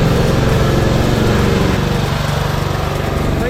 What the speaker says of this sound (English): looked like they were sanding out some knobbly bits in the path